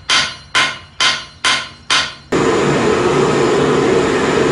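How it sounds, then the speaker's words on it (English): Five evenly spaced, loud metallic hammer blows on heated steel of unknown type ring out one after another, then give way to a steady, loud roaring hiss like a forge or torch. "Basically just wanna hammer that out some."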